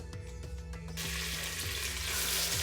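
Food dropped into a pan of olive oil, whole and uncut, bursts into a loud, steady sizzle after a second of quieter kitchen sounds, then keeps frying evenly.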